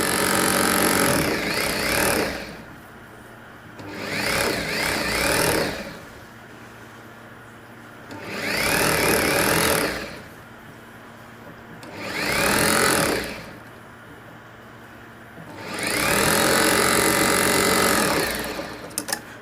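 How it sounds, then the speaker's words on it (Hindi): A sewing machine stitches a suit in five separate bursts of rapid, loud mechanical clatter, each lasting a couple of seconds and divided by short quiet pauses. "सिंपली हम इसको ऐसे करके सिलाई लगा देंगे।"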